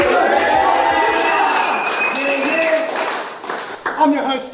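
A crowd at a rap battle claps and cheers loudly, with voices shouting over the applause, which thins into scattered claps near the end.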